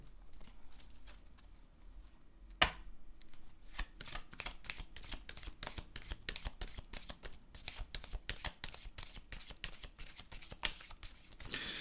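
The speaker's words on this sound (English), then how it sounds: "I'm just going to have to keep pulling more cards until it makes sense." Tarot cards riffled and pulled from a deck at close range, a dense run of quick papery flicks and taps, with one sharper snap early on. No one talks.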